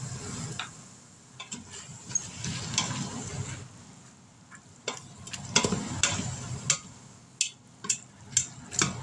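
Spaghetti cooking in an Instant Pot, a low simmering bubble under scattered sharp ticks and clinks that grow more frequent and louder near the end, no voices.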